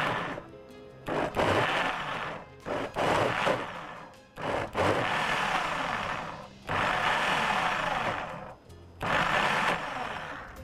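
A kitchen blender run in short bursts on a mixture of oil and salt, roaring loudly for a second or two at a time, then cutting out, repeating several times with no talk.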